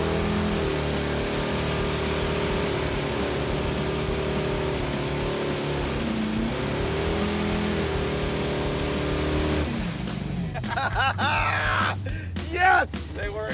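A 440-powered Dodge Dart does a burnout laying down yellow tire smoke, its engine roaring loud and sustained with droning revs, then breaking into wavering squeals and shifting revs near the end, with voices shouting over it.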